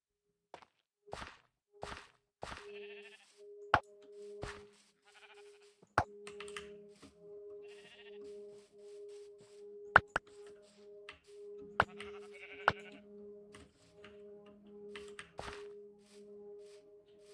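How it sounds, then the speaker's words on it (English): A sheep in the Minecraft video game bleats several times amid sharp clicks and a steady electronic drone, with no talk; the bleats are short and moderately close. "There's a sheep."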